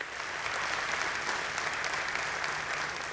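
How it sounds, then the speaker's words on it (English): Steady applause from a gathered audience at a BASF catalyst production celebration, an even wash of many hands clapping at moderate distance without a break. "So please give them a round of applause."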